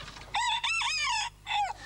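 A rooster crows in one loud, close call lasting over a second, then breaks into a shorter second crow, with no voices over it. The setting is a farmyard flock of hens and roosters that includes Brahma chickens.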